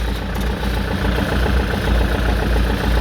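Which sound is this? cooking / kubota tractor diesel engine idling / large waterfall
kubota tractor diesel engine idling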